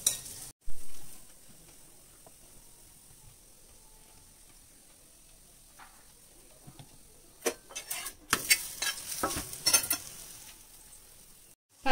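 Ragi keerai adai cooks slowly on a pan with a faint, steady sizzle. Later, a spatula scrapes and clatters against the pan in several sharp bursts, and there is no talking.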